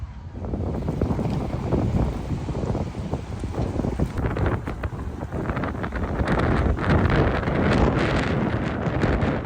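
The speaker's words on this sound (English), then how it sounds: "it's very, very windy" Strong, steady wind roars and buffets the microphone, growing gustier and louder in the second half, with no voices.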